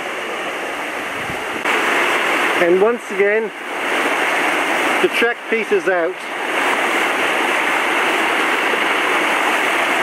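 A fast-moving creek near Browns Falls rushes in a loud, continuous broadband roar close by, while someone speaks briefly over it during the middle.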